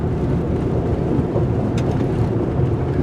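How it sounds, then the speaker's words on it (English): A 2022 Subaru Outback Wilderness with all-wheel drive pushes through deep sand, giving a steady, dense low rumble of engine and tyre noise that holds even throughout, with no voices. "the all-wheel drive comes in very handy when you're going in this deep sand"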